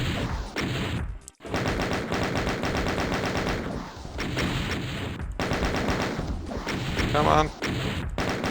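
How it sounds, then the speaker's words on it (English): Heavy, rapid weapon fire from the BFG and super shotgun in Doom 2 pounds almost nonstop, with loud overlapping blasts and brief gaps, and a short spoken exclamation partway through. "I'll try for 2-shotting with the BFG. Probably going to have to use a fair amount of super shotgun as well."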